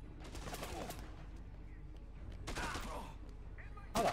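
Bursts of gunfire crackle in Dead Rising 2, several rapid volleys spaced over a few seconds, moderately loud against a game backdrop with a louder crack at the end.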